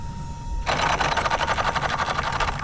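A Raptor R RC truck motor suddenly revs up after a quiet start, buzzing loudly and rapidly in a steady high-pitched whine as the soaked truck runs back and forth to dry off from wet tall grass.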